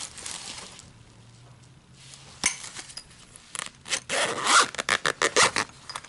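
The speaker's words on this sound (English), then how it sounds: "And it has a zipper." The zipper on a purple crochet hook case is worked in short, close, raspy pulls after a quiet stretch of faint handling sounds, with several quick zips near the end.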